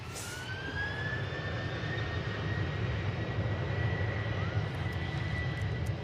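Ethiopian Airlines Airbus A350 jet engines roar steadily at a distance, a constant broadband rumble with a faint rising whine, slowly swelling in loudness.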